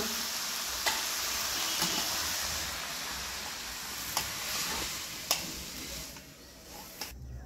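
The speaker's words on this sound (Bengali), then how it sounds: "তেল গরম হয়ে গেছে, তেলে আমি দুটো তেজপাতা দিয়ে দিচ্ছি।" Mixed vegetables and bay leaves frying in hot oil, a loud continuous sizzle with a few sharp utensil clicks on the pan, no talking.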